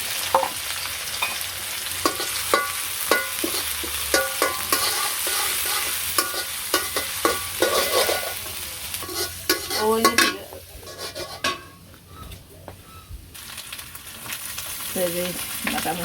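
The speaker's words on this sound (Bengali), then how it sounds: "গরম চুলাই পেঁয়াজ দিয়ে দিলাম" Onions hit hot oil in a pan on a village cooking stove, giving a loud, continuous sizzle with repeated scraping strokes of a stirring utensil, then a brief quieter pause before the frying resumes.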